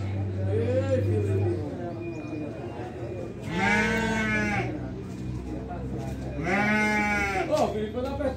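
At a Brazilian sheep and goat fair, a goat lets out two loud, drawn-out bleats a few seconds apart, with people talking nearby between and around the calls.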